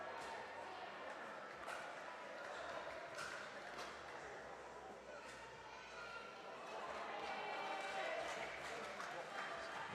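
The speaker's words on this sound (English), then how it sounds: "The groans from the crowd" Crowd at an indoor pickleball showcourt match in Melbourne, a steady broad murmur and groaning reaction that swells slightly toward the end, with occasional sharp paddle or shoe sounds and commentators talking over it.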